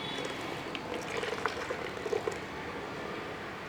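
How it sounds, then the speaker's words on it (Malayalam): Water poured into a clay pot of fish curry, a soft continuous liquid pour with light bubbling and a few small splashes, close and steady with no talking. "കുറച്ച് വെള്ളം ഒഴിച്ചു കൊടുക്കുക"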